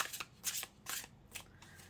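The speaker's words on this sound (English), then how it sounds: "Please, let's give them a shuffle." Tarot cards are shuffled close by in quick, papery riffles and slides, several bursts of crisp rustling with short pauses between them.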